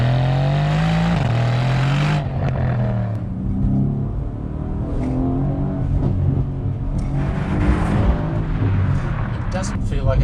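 Bi-turbo V8 of an AMG C63S burbling and revving while driving, a loud continuous engine rumble with rising and falling pitch throughout, voices talking over it inside the car.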